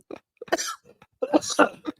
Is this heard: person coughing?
yes